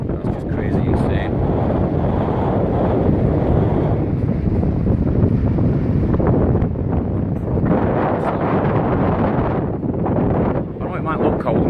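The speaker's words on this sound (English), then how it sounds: "it's just that bit of wind" Strong gusting wind buffets the microphone on a beach at Perranporth during a sandstorm, a loud, continuous roar with surging gusts that fill the whole clip.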